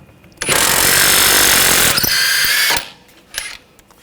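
A power tool with a 22mm socket rattles hard against a nut on a 2014-2020 Nissan Rogue steering rack inner tie rod, in a loud burst of about two seconds with a short follow-up, then quiet clicks.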